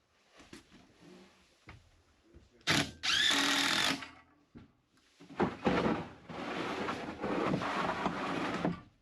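A handheld power drill runs in short bursts during a repair on a portable indoor shower and toilet unit, with a loud whirring burst near the start and longer rough, rattling runs later, close by and with no talk.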